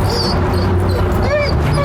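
An overstimulated dog whimpers and gives high yips over a busy background, close and loud, with a voice partly in the mix.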